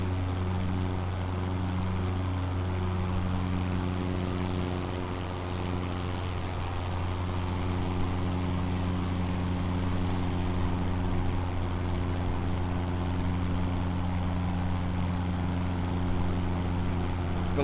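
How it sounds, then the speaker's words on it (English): An aircraft engine at full power in Microsoft Flight Simulator 2020, a steady droning propeller hum with strong low harmonics, constant and loud from start to finish. "Well, that's full engine power"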